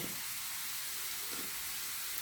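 Onions roasting in a pan while garlic is being prepared for a stuffed onion dish, giving a steady, quiet hiss and sizzle that runs without a break.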